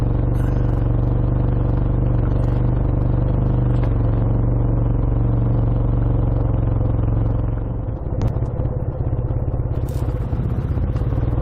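Austin A10 classic car driving along a sunny Cornish country road, with a steady low engine drone and road rumble throughout and a brief rougher clattering patch near the end, no talking.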